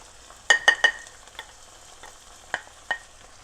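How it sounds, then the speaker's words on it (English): Peas stirred into a tomato-paste meat mixture for arancini: a few sharp spoon scrapes and clacks against the pan, spaced unevenly over a faint, quiet sizzle. "we give a nice turn with the peas, everything together"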